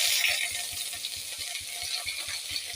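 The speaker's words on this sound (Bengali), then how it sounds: "জিরা, ধনে এগুলো দিয়ে দিচ্ছি ফোড়ন।" Cumin and coriander seeds sizzle and crackle in hot oil as a spice tempering for a home-cooked dish, a close, steady frying hiss with faint rhythmic stirring taps underneath.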